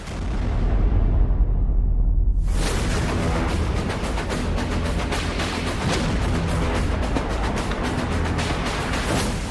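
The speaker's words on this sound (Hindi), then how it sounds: "शहरों पर रूसी सेना आसमान से बम बारूद बरसा रही" Bombs and artillery striking Ukrainian cities: a low rumbling roar fades, then after about two seconds a loud, dense barrage of blasts and crackling bursts continues without pause. No voices.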